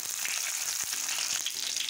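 Garlic, cumin and mustard seeds fry in hot oil, giving a steady close crackling sizzle with small pops throughout.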